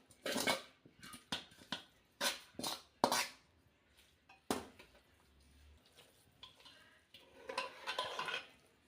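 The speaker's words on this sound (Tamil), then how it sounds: "அதோட இந்த வெஜிடபிள்ஸையும் சேர்த்து போட்டு மிக்ஸ் பண்ணிக்கலாம்." A utensil stirs vegetables into millet pongal in a pot, producing a series of separate scraping and clattering strokes, close and fairly quiet, with short pauses between them.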